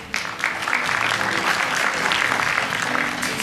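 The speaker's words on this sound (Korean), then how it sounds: "큰 박수로 맞아주시기 바랍니다." An indoor lecture audience at a media event applauds a speaker taking the stage, a dense, steady wash of many hands clapping at once, loud and sustained for the whole stretch.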